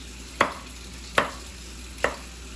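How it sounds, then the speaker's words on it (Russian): Carrots are cut into thin julienne strips with a knife on a cutting board for plov, three sharp, crisp chops spaced evenly and close by, with quiet kitchen background between strikes. "пока папа режет морковку"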